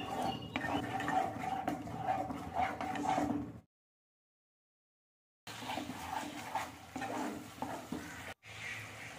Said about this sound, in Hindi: मसाले के साथ पेस्ट की हुई दही और काजू को हम मिला लेंगे